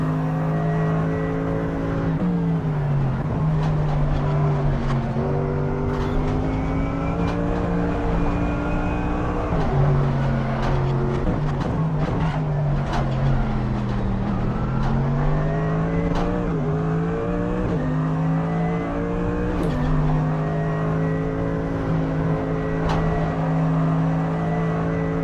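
Loud, continuous LMP3 race car engine drone from a racing video game, pitch rising and falling with repeated gear shifts and revs, with faint clicks throughout.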